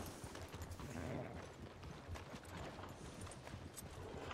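Horse hooves clip-clop faintly in RedM, the Red Dead roleplay game, with a steady, muffled rhythm of hoofbeats against low background noise.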